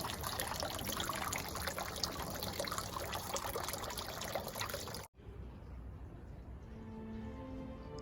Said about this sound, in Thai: ใช้ไม้ไผ่เนาะทำเป็นรางน้ำนะคะ รางน้ำหยด